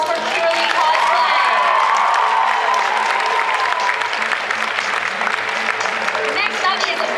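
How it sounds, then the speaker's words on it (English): A large audience at a cosplay competition in Perth applauds steadily, with dense clapping mixed with cheers and whoops, loud and sustained for the whole stretch. "Can we please have a round of applause for Kiralee Cosplay?"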